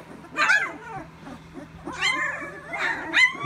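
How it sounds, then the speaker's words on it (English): Several dogs yipping and barking in short bursts with whiny, high-pitched cries, close by and agitated. "They are growling and barking at each other like they're tough."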